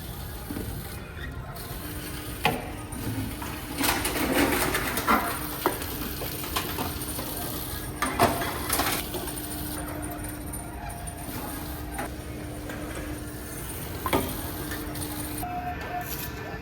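A bottle return machine in a quiet store hums steadily while bottles clatter and thunk into it at irregular intervals, close and moderately loud.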